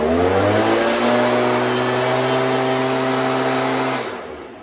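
A small Stihl leaf blower engine holds a high, steady rev after carburetor adjustment, then drops off near the end; loud and close, with no talking.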